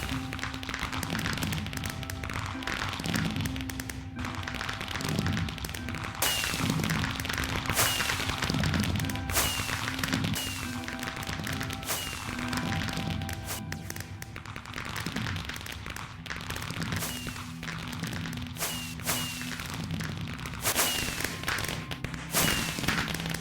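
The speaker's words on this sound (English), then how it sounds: "please enjoy this lovely fireworks show" Fireworks show in Minecraft, with repeated sharp pops and thuds bursting at irregular intervals over a steady, dense background hum throughout, fairly loud and continuous.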